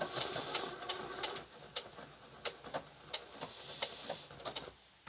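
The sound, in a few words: Singer 6800C sewing machine stitching decorative stitches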